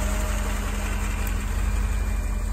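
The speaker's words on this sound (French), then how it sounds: "Je pense que la clim est activée, donc le compresseur s'active. Voilà, donc c'est un moteur très robuste" A 1988 Mercedes 560 SL with 144,000 miles idles with the air-conditioning compressor running. It makes a steady, even engine hum with a faint whine, constant and close, with no talking.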